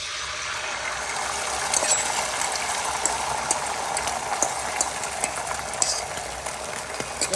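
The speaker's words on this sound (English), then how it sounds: "And right now, I'm just going to be adding these eggs." Eggs go into hot oil in a pan for egg fried rice, producing a continuous crackling sizzle with small spitting pops throughout, close and fairly loud.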